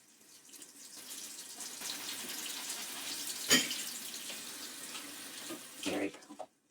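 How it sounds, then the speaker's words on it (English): Tap water runs steadily into a sink while waiting for it to heat up for rinsing scrubbed dishes, a close, continuous splashing stream with a brief clatter midway and louder splashing near the end. "Just waiting for this water to get hot so we can rinse off some of the stuff I've already"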